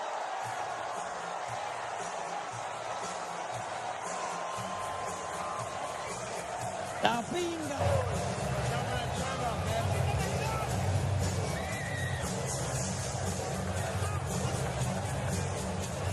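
Arena crowd at a Manny Pacquiao versus Yordenis Ugas boxing bout, a steady broad roar that swells after a sharp cry around seven seconds, with commentary voices running over it throughout.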